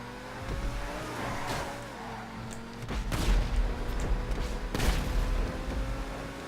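Rockets launch from a car in Grand Theft Auto V Stunt Races, two or three sharp, punchy blasts over a steady engine drone, loud and close, with no talking.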